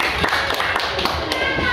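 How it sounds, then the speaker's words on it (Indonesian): Hands clapping in a group, children among them, at a school morning gathering with soldiers, heard as a brief patter of claps with voices mixed in. "Luar biasa, tepuk tangan."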